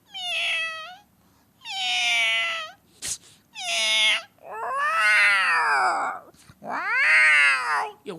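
A man imitates angry cats with his voice: five loud, close yowls and caterwauling meows with rising and falling pitch, separated by short pauses.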